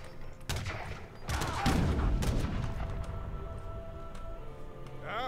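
Cannons fire during a multiplayer naval and land battle in Age of Empires 3, with a dense volley of booming shots and rumbling impacts that build quickly and then trail off.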